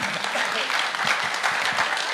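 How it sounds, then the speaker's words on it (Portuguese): An audience at a tourism industry panel event applauds steadily, a dense wash of clapping that stays fairly loud and even throughout. "Pode aplaudir,"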